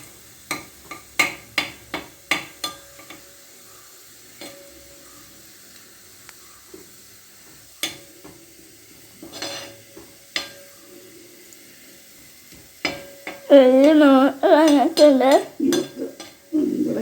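Shallots fry in a pan and are stirred, giving a faint hiss under sharp metal scrapes and clinks of a spoon against the pan that come in scattered bursts, then a short stretch of singing voices near the end.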